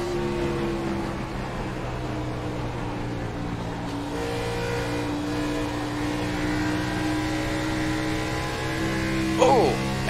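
A race car engine in a sim racing league game drones continuously at high revs, its buzzing tone shifting slightly as the car circles the oval, with a commentator talking over it throughout.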